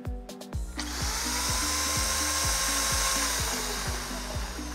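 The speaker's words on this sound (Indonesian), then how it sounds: "Kita coba untuk hidupin dulu tanpa mata bor ya." An Ingco ID6808 680-watt corded drill, fitted with no bit, runs at no load up to about 3000 rpm, giving a loud steady whine close by that holds for several seconds after a brief start-up, with no talking over it.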